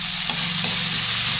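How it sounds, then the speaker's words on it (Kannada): Spices frying in a pan for paneer kurma masala, giving a close, steady, dense sizzle that fills the short moment without a break. "ಇವನ್ನ ಒಂದು ಸ್ವಲ್ಪ ಫ್ರೈ ಮಾಡ್ಕೋತೀನಿ."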